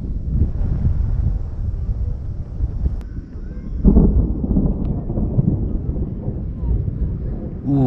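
Deep thunder from an approaching storm front rumbles over open water on a fishing outing, a broad low roll with a stronger swell near the middle, heard under steady wind buffeting the microphone.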